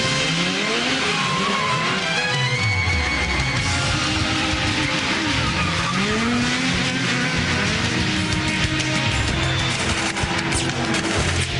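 Stunt show cars race and skid at Walt Disney Studios Paris: loud, continuous engine roar with revving and repeated tire squeals sliding up and down in pitch, no voices.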